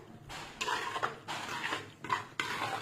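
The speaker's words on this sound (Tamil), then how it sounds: "அந்த மசாலாவை இந்த எலுமிச்சம்பழத்தில் சேர்த்து நல்லா கிண்ட வேண்டியதாங்க நல்லா கிண்டுவோம்" Ground masala is stirred into lemon pickle with repeated scraping strokes against the container, coming in a few close, rhythmic bursts with brief pauses between them.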